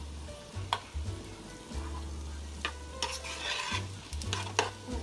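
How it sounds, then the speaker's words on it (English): Food stirred in a pot while cooking a one-pot meal, a spoon scraping and clinking in irregular strokes over a soft sizzle and low hum, close and fairly quiet. "So you keep stirring it around so it doesn't burn"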